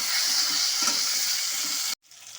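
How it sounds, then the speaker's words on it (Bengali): Cut potato and eggplant fry in a pan with a steady, loud crackling sizzle, punctuated by soft stirring scrapes, before the sound abruptly drops away and returns quieter. "এখন আমি আলু আর বেগুনটাকে ভালো মতো করে একটু ভাজা ভাজা করে নেব।"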